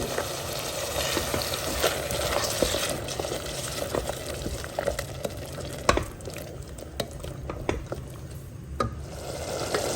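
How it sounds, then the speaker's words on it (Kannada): Ground masala paste frying and being stirred in a pan, a steady sizzle throughout with frequent scraping and clinking of the spoon against the pan, fairly close and alone with no talk. "ಈಗ ನಾವು ರುಬ್ಬಿಟ್ಕೊಂಡಂಥ ಮಸಾಲೆಯನ್ನು ಸೇರಿಸ್ಕೊಳ್ಳೋಣ ಮಸಾಲೆ ಸ್ವಲ್ಪ ಹಸಿ ವಾಸನೆ ಹೋಗುವವರೆಗೆ ಹುರ್ಕೋಬೇಕು"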